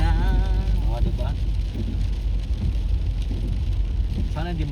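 Rain falls during a car ride in Manchester, a steady wash of noise mixed with road rumble and wind, while people talk over it throughout.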